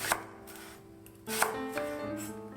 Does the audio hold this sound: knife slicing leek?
yes